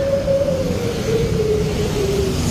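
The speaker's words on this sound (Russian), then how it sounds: "Такие звуки издают грузовики." Trucks passing along a road in Bali, a steady loud engine drone with a slowly falling tone, continuous and close for the whole stretch.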